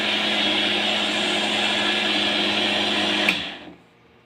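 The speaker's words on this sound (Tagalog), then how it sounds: "Ayan, yan, nag-blender ko yan." A newly bought electric blender runs at a steady loud whir for about three seconds, then cuts off abruptly and winds down into near silence.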